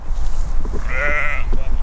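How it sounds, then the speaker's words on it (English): On grazing land in Fresno County, a sheep or goat from a flock used to control invasive plants gives one loud, wavering bleat midway through steady outdoor noise. "Today, sheep and goats are doing their part."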